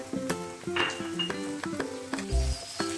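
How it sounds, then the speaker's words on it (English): Sliced capsicum tossed into a hot pan for chilli paneer, with a light sizzle under clinks and knocks of a utensil against the pan, close and moderately loud, no talk. "I will be adding the capsicum, the sliced capsicum into the pan"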